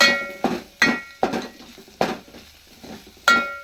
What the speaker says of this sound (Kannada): ಖಾರ ಪುಡಿ ಹಾಕ್ಕೊಂಡು ಗ್ಯಾಸ್ ಸಣ್ಣಗಿಟ್ಟು ಇದನ್ನು ಸ್ವಲ್ಪ ಕಲಿಸ್ಬೇಕು